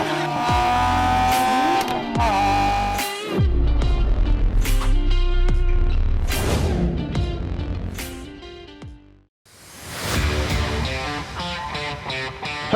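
A 2025 Proton X50 1.5 turbo flagship on a test drive in Malaysia, its engine note loud and close as it climbs in pitch, dips briefly at each upshift, then pulls again, with no talking.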